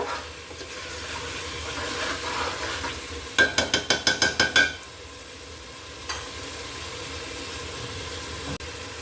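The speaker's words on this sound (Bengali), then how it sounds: "ডিমটাও দিয়ে দিচ্ছি এগুলো কিছুক্ষণ মশলার সাথে কষিয়ে" Boiled eggs sautéed with spice masala in a pan give a soft, continuous sizzle and stirring, with a quick burst of about eight rapid metallic clinks midway and a few isolated knocks later.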